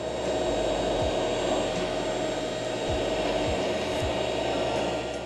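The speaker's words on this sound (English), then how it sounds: "There's also a comb with a built-in vacuum." A pet grooming comb with a built-in vacuum runs continuously, a steady loud whirring drone with a few brief dips in pitch as it works, close up with no talking.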